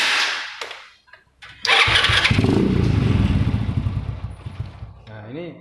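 A motorcycle engine is started for carburetor tuning toward a 1200–1300 rpm idle: a short voice and clatter, then the engine cranks and catches, running loud, close and steady with a throbbing rumble.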